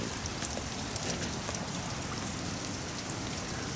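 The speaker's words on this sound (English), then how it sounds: "Who says it doesn't rain in California, huh?" Steady rain falls in California, a dense, even hiss of drops striking surfaces that holds at one level throughout, with no talking.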